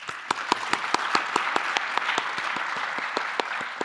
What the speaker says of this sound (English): Let us show our appreciation with a round of applause.